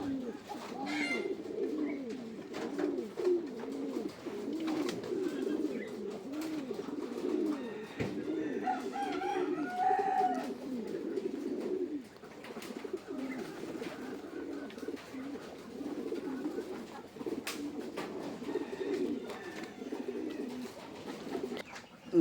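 Pigeons coo steadily in a pigeon loft, a dense, continuous layer of soft overlapping calls from many birds close by, with faint occasional rustles and no talk.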